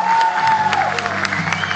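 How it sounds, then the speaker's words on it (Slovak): Audience applause with some cheering at a village sports awards evening, a steady dense clatter of many hands filling the hall, loud and continuous throughout. "a váš potlesk veľký"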